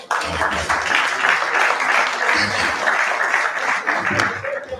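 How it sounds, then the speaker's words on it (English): Applause fills a research review meeting, continuous dense clapping from a seated audience at a steady level, with a few low voices murmuring underneath. "Please give another big round of applause."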